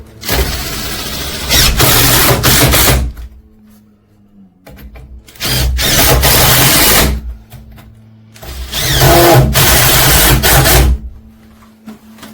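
Power drill driving screws to join the timber frame of a floating garage shelf, three loud sustained bursts of a few seconds each, separated by quiet pauses, with no talking.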